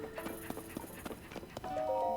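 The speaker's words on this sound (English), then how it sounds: "Then obviously they can call our horse to us" Horse hooves in the video game Tears of the Kingdom, a run of clip-clop beats at a steady gallop-like rhythm with game sounds and a rising chime layered over the end.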